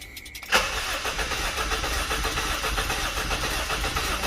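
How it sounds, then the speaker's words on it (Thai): A Honda Civic Dimension with an electrical fault cranks without catching after a click, giving a steady, rhythmic starter churn that carries on loudly to the end. "เดี๋ยวเราลองสตาร์ทดูนะครับ"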